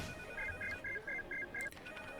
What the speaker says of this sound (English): the cell phone in the back pocket of my jeans started to ring